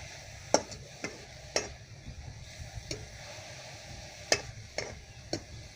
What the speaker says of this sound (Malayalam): എന്നിട്ട് നല്ലതുപോലെ ഒന്ന് മിക്സ് ചെയ്ത് കൊടുക്കുക.